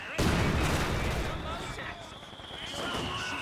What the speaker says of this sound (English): There we go, mortars get rolling.